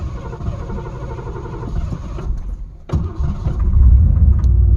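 A 1988 Ford Thunderbird with a suspected faulty ignition switch cranks and starts up, then settles into a close, rough idle that grows louder and deeper toward the end.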